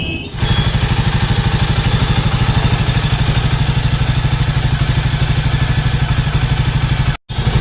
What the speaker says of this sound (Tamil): இந்த மாதிரி பைக்கை நம்ம ஸ்டார்ட் பண்ணதுக்கப்புறம் வந்து சென்சார் சவுண்டு, ஒரு சவுண்டு வீன்னு ஒரு சவுண்டு வருது